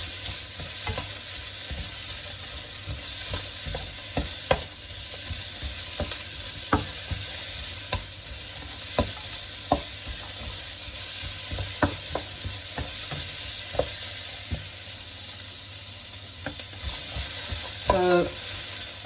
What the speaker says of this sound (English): So just keep stirring it around, keep everything moving.